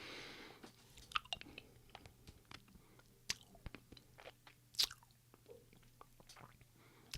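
Chewing a eucalyptus hard candy up close, quiet crunching and clicking bites at an irregular pace, with occasional wet mouth sounds and no talking.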